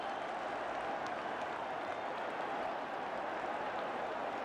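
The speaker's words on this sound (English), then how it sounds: "the crowd shouted immediately too" Football crowd at a 1979-80 English First Division match roaring right after a handball penalty is given, a dense continuous wash of shouting voices at steady loudness throughout.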